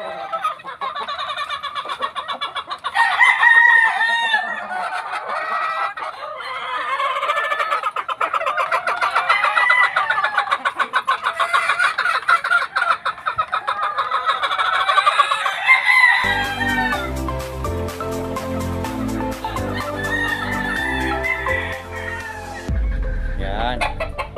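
Young gamefowl stags, early-bird banded birds of a Pumpkin Hatch line, crow repeatedly with clucking all around, a busy flock close by with a few sharp bursts near the end.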